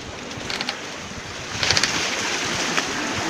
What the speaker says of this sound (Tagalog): Sobrang alon, maalon na po talaga yung dagat.